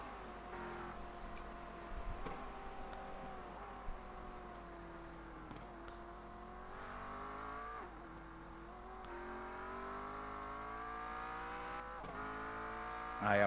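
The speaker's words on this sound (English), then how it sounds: "I am heating the engine up." A GT3 race car engine from a racing video game on the Nordschleife revs and pulls through the gears, rising in pitch, dropping at each shift, then climbing again. The sound is steady and moderately loud, with a brief voice at the end.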